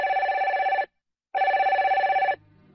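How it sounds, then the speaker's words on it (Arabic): Telephone ringing in two electronic trills of about a second each separated by a short silence, clear and close with nothing else around them. "رن هاتف عبد الجليل."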